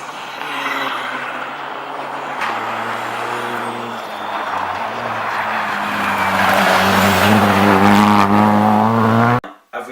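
WRC rally cars roll past one after another at ordinary road speed during the Rally Sweden shakedown, engines loud and close with a steady drone that swells and then cuts off abruptly near the end.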